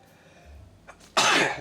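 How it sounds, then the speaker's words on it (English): A single sharp sneeze bursts out loud and close after a brief quiet intake of breath, with pollen from nearby bushes as the cause. "I don't know why I'm sneezing today."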